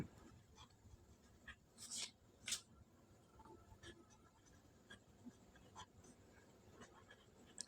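A pen scratches across paper while a math problem on area is worked out, faint intermittent strokes and taps in a quiet room, with no one speaking.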